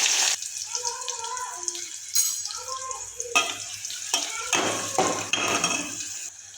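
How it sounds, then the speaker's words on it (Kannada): Chopped onion going into a hot pan with mustard seeds, cumin and curry leaves, giving a steady close sizzle with bursts of stirring and scraping, under a voice talking. "ನಾನಿವಾಗ ಇದಕ್ಕೆ ಒಂದು ಕಟ್ ಮಾಡ್ಕೊಂಡಿರೋ ಈರುಳ್ಳಿ ಹಾಕ್ತಾ ಇದ್ದೀನಿ."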